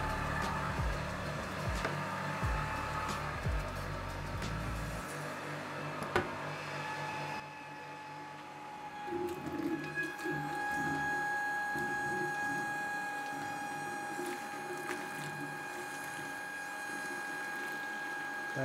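A wine filtering machine runs steadily after cellar racking following fining, a continuous mechanical hum with whirring and faint clicking, a low rumble dropping away partway through while the drone carries on alone.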